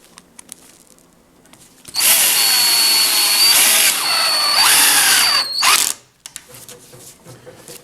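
A power drill whirs loudly for about four seconds, its pitch dipping and rising as it drives a 2.5-inch screw into a wooden window frame, then cuts off abruptly.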